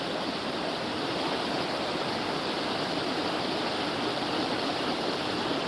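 Salmon River at Pulaski, New York, running at low flow after a dry summer, a steady broadband rush of moving water, close and constant with no voices.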